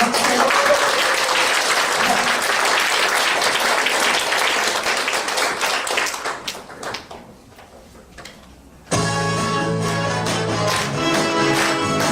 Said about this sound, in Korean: 박수 많이 쳐주시고 같이 응원해 주시기 바랍니다